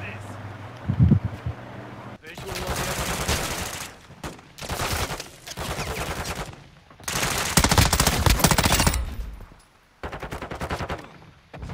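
Gunfire in Call of Duty: Modern Warfare II, loud sustained automatic bursts of several seconds each separated by short pauses, close and dense, with game voice callouts between them.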